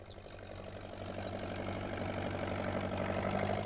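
A farm tractor's engine idles close by, a steady low rumble with a faint mechanical knock that grows slightly louder over a few seconds, with no voices.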